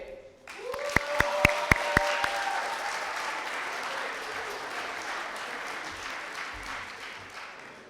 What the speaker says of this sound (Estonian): kutsume nüüd aplausi saatel lavale Karoliina ja Tairi